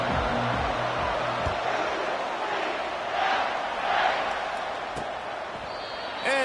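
Stadium crowd roaring at UCF's Bounce House in the EA Sports College Football video game ahead of a kickoff against Kansas, a steady dense wash of cheering with swells, under a commentator's voice.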